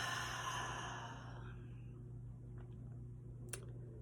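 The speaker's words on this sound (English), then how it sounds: "So take a nice deep breath." One slow, deep breath, heard as a soft airy exhale that fades over about a second and a half in a quiet room, followed by a faint click near the end.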